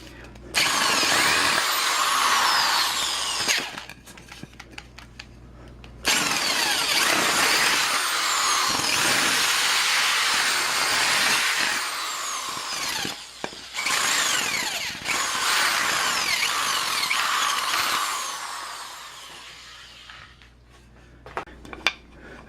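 A power drill whines loudly in long sustained bursts, biting into wood, with brief pauses between runs and the motor spinning down at the end.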